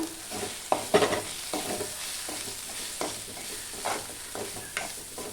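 Tripe curry is stirred with turmeric and coriander powder mixed in, giving a low sizzle broken by several sharp spoon scrapes and knocks against the pan; no one speaks.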